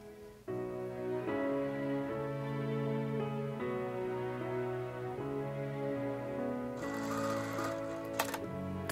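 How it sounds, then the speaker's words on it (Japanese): A sewing machine runs steadily, stitching the shoulder seam of an Oshima tsumugi silk jacket, a soft continuous mechanical hum with shifting motor pitch and a few brief clicks near the end, fairly faint, with no talk. "次は肩を縫います。"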